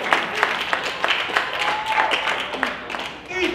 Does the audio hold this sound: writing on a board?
no